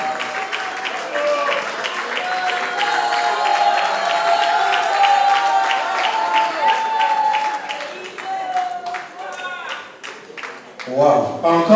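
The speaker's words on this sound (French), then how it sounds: "encore des applaudissements" An audience in an awards-ceremony hall breaks into sustained applause, a dense wash of clapping that swells and ebbs, with a few cheers and crowd noise mixed in and a sharper burst of claps near the end.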